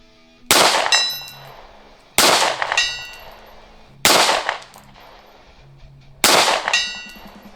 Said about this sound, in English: you just heard all those shots ringing.